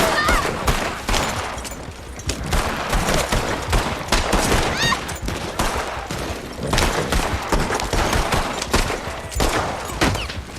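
Heavy gunfire in the video game Red Dead Redemption 2 Online, with many overlapping shots and volleys cracking steadily throughout, loud and close, while voices call out briefly.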